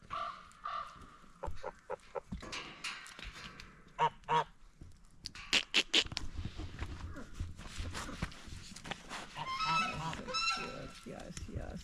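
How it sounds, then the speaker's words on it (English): Geese honk on a farm alongside ducks, giving loud nearby bursts of harsh, repeated honks in irregular clusters, with clucking fowl and people talking in between. "And you got the geese and ducks up there."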